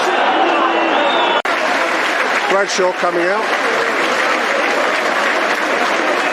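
A football crowd at Millwall vs Crystal Palace applauds in a dense, steady wash of clapping throughout. A commentator speaks briefly over it, and a sharp click cuts in early on.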